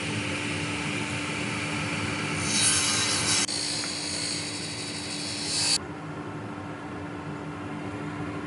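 Steady rasping strokes of an Irwin tenon saw cutting through wood, continuous and close, with a brief brighter burst partway through before the cut settles.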